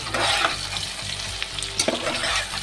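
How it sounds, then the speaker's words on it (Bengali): Four chopped onions fry in a pan, giving a close, continuous sizzle. Brief scraping stir sounds come through for a few seconds, with no speech. "পেঁয়াজটাকে একটু লালচে করে ভেজে নেব।"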